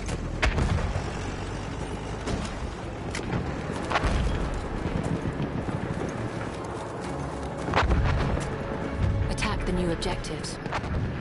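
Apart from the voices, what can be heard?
enemy artillery barrage firing in War Horse video game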